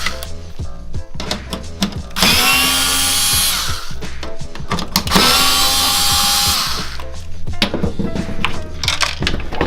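A power screwdriver whirs in two sustained bursts while undoing headlight trim screws on an Audi A5, S5 or RS5, with clicks and handling knocks between and after the runs.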